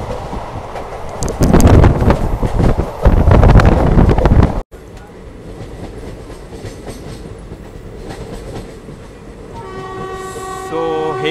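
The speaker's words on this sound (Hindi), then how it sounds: "Here we are having a crossing of Patna Hawda Vande Bharat." A Patna–Howrah Vande Bharat express passes a level crossing, its loud rushing roar and rattle peaking in the first seconds before cutting off, leaving quieter rail rumble and a sustained train horn sounding near the end, with a voice briefly audible.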